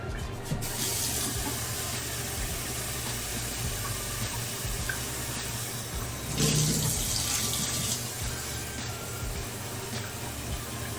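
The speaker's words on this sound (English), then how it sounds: "start adding water into here." Tap water running steadily into a pot of rice, a continuous close-up splashing stream with a brief louder burst partway through as the flow shifts.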